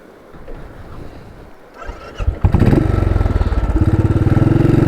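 A Royal Enfield 500 motorcycle starts up and settles into a steady, loud thumping single-cylinder beat after a quieter rustling stretch, the engine close by and running alone with no talk.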